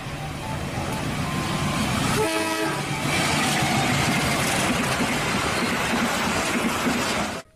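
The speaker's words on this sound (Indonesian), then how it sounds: "Lihat teman-teman. Ada kereta api." Toy train running with a steady rumbling, clattering drone and a brief horn-like toot partway through, loud and continuous for several seconds before cutting off.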